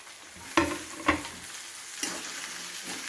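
A spoon scrapes through upma (uppittu) in a hot pan as coriander leaves and grated coconut are mixed in: three or four distinct scraping strokes over a steady soft sizzle, close up.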